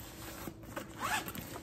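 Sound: zipper on backpack pocket

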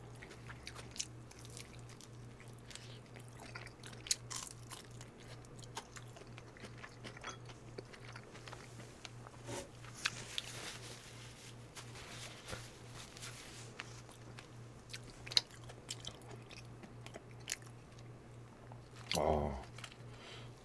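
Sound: eating crunchy fried chicken, chewing and biting

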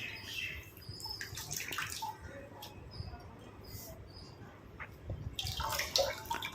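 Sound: water squeezed out of hibiscus flowers and leaves

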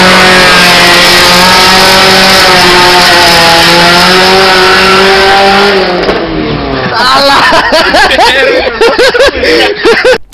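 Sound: loud modified car engine revving

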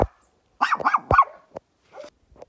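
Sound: guard dogs barking

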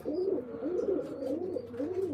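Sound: pigeons cooing in a pigeon loft

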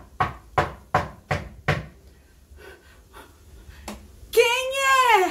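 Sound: knocking on a door

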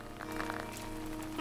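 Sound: rain in the video game Animal Crossing New Horizons

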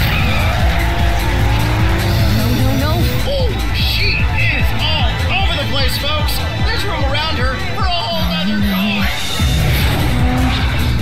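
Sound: cars racing and skidding in an anime short film

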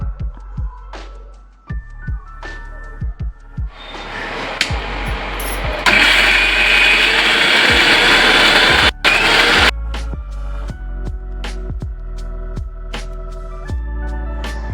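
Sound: mixer grinder grinding roasted spices

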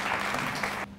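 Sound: audience applause at end of conference session

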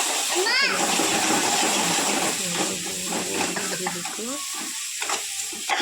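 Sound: stirring frying masala in a pan

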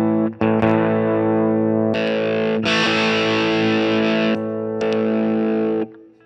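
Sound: electric guitar through Mosky handmade overdrive pedal

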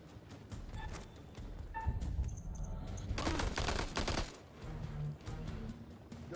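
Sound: gunfire in House of Ashes video game

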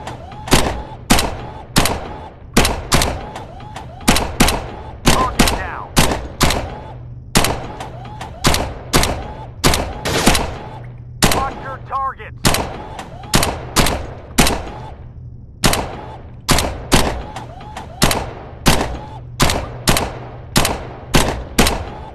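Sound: submachine gun fire in Gun Club VR video game

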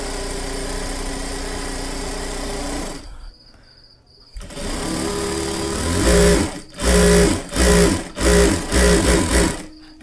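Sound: sewing machine running with a shirring gathering foot

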